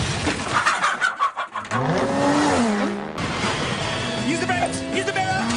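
A cartoon car in a Danger Mouse chase roars and revs loudly with rising engine whines and a squeal, heard up close while characters shout over it.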